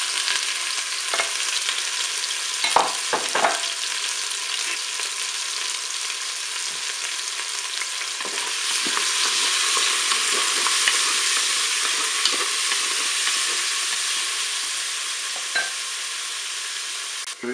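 Pieces of beef steak frying in hot oil in a Cookeo pot, a steady loud sizzle throughout with occasional stirring clatters and pops up close.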